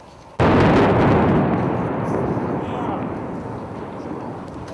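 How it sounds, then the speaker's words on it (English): A precision guided missile strikes and levels a building during urban combat: one sudden massive blast after a brief quiet, followed by a long rolling roar and debris rumble that slowly fades. "A precision guided missile. The building that was, for a short time, a refuge for insurgents. Completely leveled."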